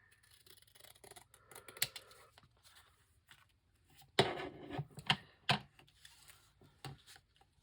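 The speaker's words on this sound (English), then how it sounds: "So I'm going to trim this edge off here." Scissors trimming the edge off a handmade bookmark, a few quiet snips at first, then a cluster of sharper close crisp cuts in quick succession.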